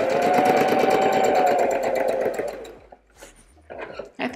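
A sewing machine stitches dots on a dress, a fast close buzzing whir that runs for about two seconds and then slows and stops, followed by brief quiet handling sounds.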